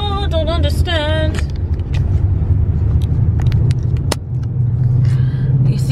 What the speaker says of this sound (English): You see all this traffic?